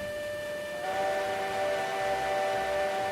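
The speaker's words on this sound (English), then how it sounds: "Hang on, hit your whistle again." A steam locomotive whistle in the train game Railroads Online blows one sustained, steady multi-tone chord that swells slightly after its start and holds clear and loud with no talk.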